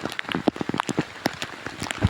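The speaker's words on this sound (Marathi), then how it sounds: "पावसामुळे मोबाईल भिजला आहे माझा सगळा" Rain falling outdoors during a rainy-season crab-catching outing, with close, irregular drops striking a surface in sharp, scattered taps over a soft background wash.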